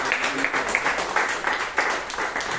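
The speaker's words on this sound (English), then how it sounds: "please give a big round of applause to Mansi Bihani" Dense, steady clapping fills a Toastmasters meeting room as the audience welcomes speaker Mansi Bihani, even and sustained throughout with no voices on top.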